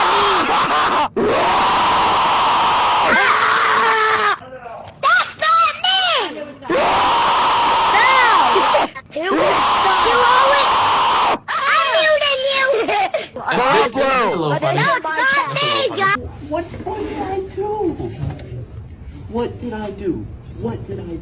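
Loud screaming and yelling voices from a played comedy clip erupt in repeated bursts, with shrill strained cries and groans cutting in and out over about twenty seconds.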